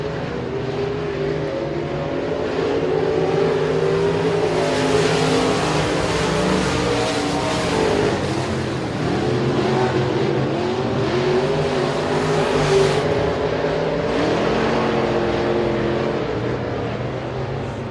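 Modified race cars in the American Racer Modified Series roar around the Sabine Speedway oval, engines droning loudly and continuously for the whole stretch with layered revving as the pack rises and falls, and no voices on top.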